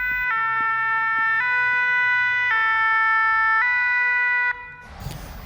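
Fire engine sirens wail loudly and steadily as trucks arrive at a burning industrial company in Niederbronn-les-Bains, where about 2000 litres of oil caught fire; the two-tone pattern repeats evenly for several seconds, then cuts off into rumbling noise.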